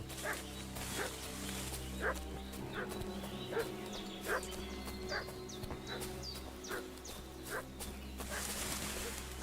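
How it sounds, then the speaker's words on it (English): A dog barks repeatedly in Kingdom Come: Deliverance II, sharp yips and barks in an irregular run, somewhat distant, over an outdoor village ambience with birds chirping. "What's that dog making such a fuss about?"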